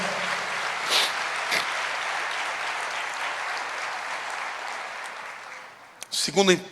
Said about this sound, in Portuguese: pode aplaudir, porque ele merece